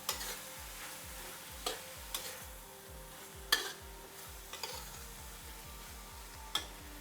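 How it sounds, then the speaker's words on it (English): Runner beans are stirred in a pot while cooking couscous rice with chicken gravy: a faint simmering hiss with scattered light utensil clicks and taps, unhurried and irregular, no voices. "You equally give this a stir for another 1 minute."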